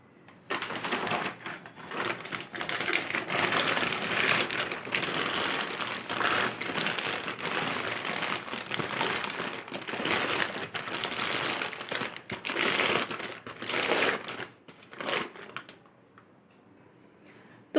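A plastic wheat flour bag crinkles and rustles steadily as it is turned inside out by hand, close and fairly loud, with continuous crackling that fades near the end.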